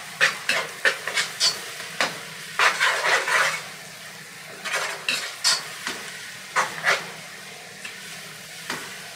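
Garlic-ginger paste frying with onions in a pan for chicken biryani, with repeated scraping stir strokes in irregular bursts over a steady low sizzle, close up.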